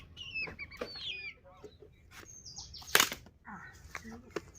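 Village chickens and ducks near a newly built clay cooking stove, with brief clucks and sudden bursts of wing flapping close by, over faint outdoor background and a person calling out.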